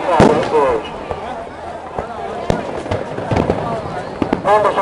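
Fireworks burst repeatedly at the Lewes Bonfire Night display, loud sharp bangs and crackling pops arriving in irregular volleys, with crowd voices and talk mixed in among the explosions.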